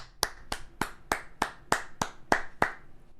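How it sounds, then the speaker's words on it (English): Hands clap ten times in a slow, even rhythm, each sharp crisp clap about a third of a second apart, close to the microphone in a quiet room. "That's not a slow clap."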